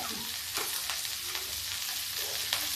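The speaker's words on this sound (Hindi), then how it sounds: "इसको हम थोड़ा सा फ्राई करेंगे" Sun-dried green chillies frying in a pan for pickle, a faint, steady hiss of sizzling oil with occasional soft stirring scrapes, close by.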